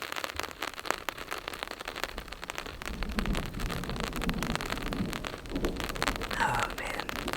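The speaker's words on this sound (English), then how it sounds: "As you all can hear, it's raining. It's not very heavy, but it is coming down." Light but steady rain falls on a campsite during a violent Colorado thunderstorm, a dense continuous patter of drops pattering on nearby surfaces with no voices.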